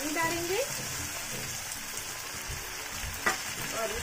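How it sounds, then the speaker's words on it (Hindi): Water hits a hot pan of cooking tomatoes and amla and sets off a loud, steady sizzle and crackle. A brief metallic clink sounds partway through, and the frying hiss continues throughout. "तो यहाँ पे हम थोड़ा सा पानी डालेंगे"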